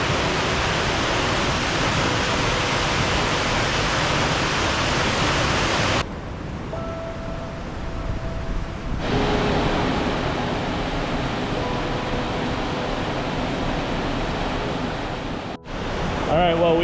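Cucumber Falls in Ohiopyle State Park gives off a continuous, steady rushing roar of falling water, loud and unbroken from start to finish.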